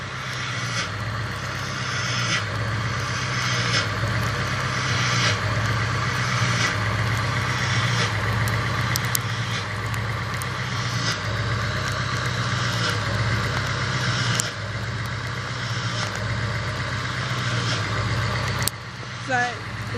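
A diesel engine idles steadily in snowy, sleety weather, with a continuous low rumble and faint periodic ticks and knocks running through it, close and unbroken for the whole stretch.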